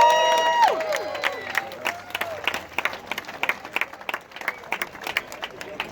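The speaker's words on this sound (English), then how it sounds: "Give yourselves a huge round of applause" A crowd at a March for Australia rally in Perth on Australia Day claps in scattered, uneven bursts after a brief whistle-like tone, with sparse individual claps under light murmuring.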